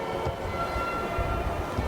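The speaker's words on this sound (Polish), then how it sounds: "Tak tutaj pociągi jeżdżą." A train rumbles past with a low, continuous rolling noise and a faint tonal hum over it.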